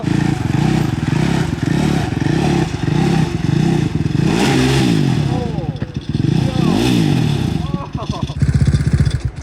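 Engine of a KTM 450 fitted to an Amish buggy, revving hard and steadily with rising and falling pitch sweeps, mechanical clatter and scraping layered over it, close and loud throughout.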